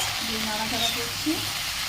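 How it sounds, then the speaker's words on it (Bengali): Greens fry in mustard oil with dried chilli and five-spice seeds while being stirred, giving a brief, steady sizzling hiss with a few soft scrapes of the spoon in the pan. "নাড়াচাড়া করছি।"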